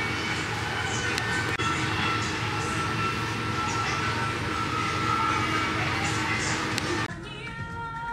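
A train in Singapore rumbles past steadily with rail noise and squeal, then the sound drops off abruptly as it fades away.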